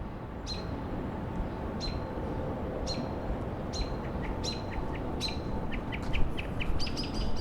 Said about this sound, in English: With a beautiful bird at the top there singing.